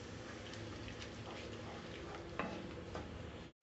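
Sambar powder is stirred into simmering sambar in a pot, giving a soft, continuous bubbling and scraping with a faint spoon knock midway, all fairly quiet and with no talk.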